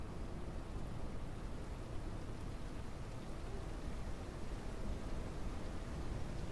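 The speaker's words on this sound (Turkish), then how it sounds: "Ah yağmur." Steady rain in the farming video game Ranch Simulator, a constant dense hiss of falling rain with no distinct drops or breaks, even and moderately quiet throughout, no talking.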